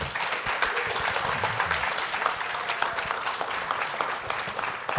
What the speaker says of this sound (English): So can I please get a round of applause for my panelists here?